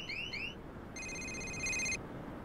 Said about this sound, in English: Simply press the panic button on your Occly Blink, and an alarm will sound